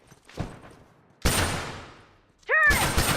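Gunfire in the video game The Last of Us multiplayer, with a faint early shot followed by a loud, sharp blast that decays over a second, then another heavy shot mixed with a rising whistling zing.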